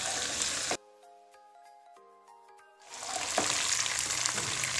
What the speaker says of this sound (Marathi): आता आपण फोडणीमध्ये कोथिंबीर पण घालणार आहोत